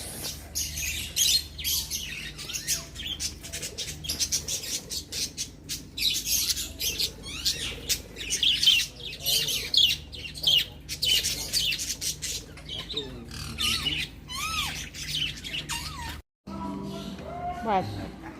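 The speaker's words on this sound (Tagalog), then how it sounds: "Birds." Many small birds chirp and tweet densely and continuously inside an aviary in Bohol, with occasional squawks, close and lively, while people talk faintly underneath.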